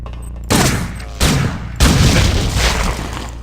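Gunfire in the video game System Shock 2, aimed at worms: three loud, close bursts of shots, each one followed by a dense, booming tail that sustains without a break.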